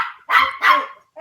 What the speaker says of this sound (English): suddenly the dog attacks. No, she just barks.